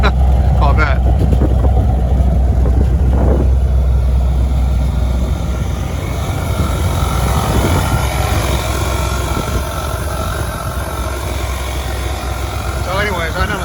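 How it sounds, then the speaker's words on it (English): A 1977 Chevrolet Corvette engine idles steadily and loudly throughout, a continuous low rumble with a faint whirring on top, while a person talks over it. "And the engine sounds beautiful on this."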